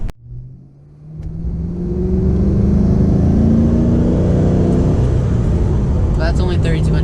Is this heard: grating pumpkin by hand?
no